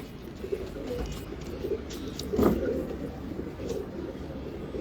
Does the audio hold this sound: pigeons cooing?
yes